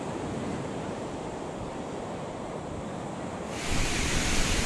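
Ocean surf washes onto a beach at sunset in Salvador de Bahia, a continuous close rushing hiss of breaking waves that swells louder in the final second, with no voices.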